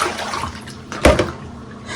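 Wash water from soaking wool, faintly pink and scented with eucalyptus, poured out in one quick splashing gush partway through, with quieter water noise around it.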